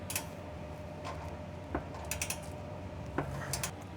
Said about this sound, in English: we're going to use our 17mm ring spanner